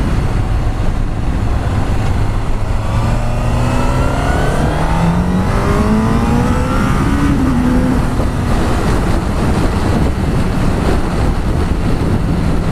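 Honda CBR1000RR Fireblade SP sportbike accelerating hard on a road, engine pitch climbing steadily through the revs under heavy, constant wind roar from a rider-mounted position.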